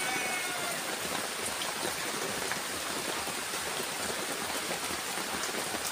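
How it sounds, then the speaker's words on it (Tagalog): Heavy rain pours down outside in a dense, steady, hissing wash that stays constant and close throughout, with no speech over it. "napakalakas po yung ulan dito sa aming mga katibog"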